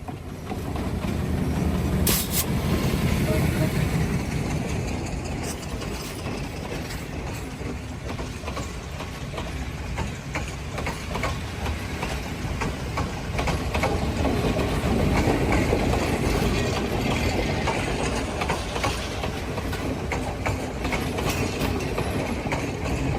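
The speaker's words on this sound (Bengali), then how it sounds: "দেখেন ট্রেন আসতেছে।" A train rolls in and passes along the seaside in Colombo, Sri Lanka, a loud sustained rumble with clickety-clack of wagons on rails, close by and continuous for the whole stretch.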